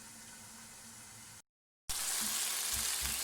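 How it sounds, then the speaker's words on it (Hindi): Masala for daal maash sizzling and frying steadily in hot oil in a pan, a loud, close, continuous hiss broken by a brief cut before resuming, with no talking. "अब हम इसको तब तक रखेंगे जब तक मसाला अच्छी तरह भुन जाएगा।"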